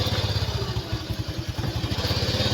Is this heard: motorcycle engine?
yes